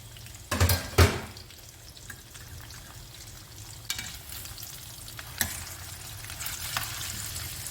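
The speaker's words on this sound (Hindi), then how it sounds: "अब मछली को फ्राई करके मैं निकाल लेती हूँ" Marinated fish pieces frying in oil, a continuous close sizzle with a couple of loud clattering bumps near the start and occasional scrapes of a utensil in the pan.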